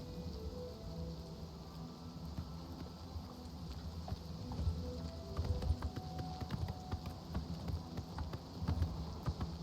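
Hooves of a horse clip-clop at a steady walking pace in a medieval fantasy role-playing game, rhythmic and fairly quiet over a soft ambient background.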